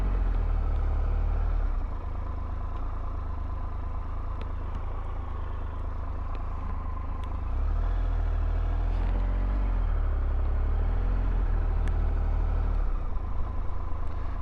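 A motorcycle engine hums at low speed through a slow tight U-turn, holding a steady idle-like drone with mild rises in revs as the clutch is slipped and the throttle eased.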